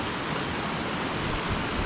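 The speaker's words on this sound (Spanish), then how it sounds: "El río arrastra troncos," The flooded Esgueva and Pisuerga rivers rush along carrying logs and branches, a dense, steady roar of churning water with no pauses and no voices.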